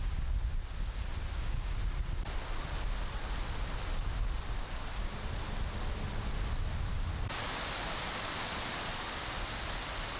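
Swollen Taehwa River water pours over Jeomcheon Bridge as a waterfall after spring rain, making a steady, loud, broadband rush that continues throughout with no voices.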